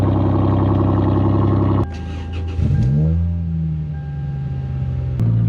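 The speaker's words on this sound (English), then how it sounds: "Nice, bright, early cold start." Toyota Celica GTS-R engine running shortly after a cold start, with a steady, loud exhaust drone, then a sharp drop in level and a rising whine as the idle settles, before the louder running resumes.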